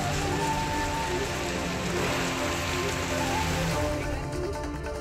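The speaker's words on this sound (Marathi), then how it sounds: "नंदुरबारच्या सारंगखेडा परिसरात अचानक अवकाळी पावसाची हजेरी" Sudden unseasonal rain pours over the Sarangkheda fair grounds in Nandurbar, a dense, steady patter of drops drumming on surfaces at close range, continuous and loud throughout with no voices.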